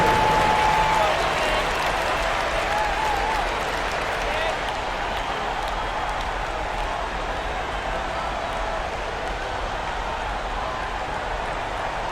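An NBA Finals arena crowd applauds and cheers for the dancers in a steady, loud wash of noise that eases slightly over time, with an amplified voice and a brief whistle-like tone early on.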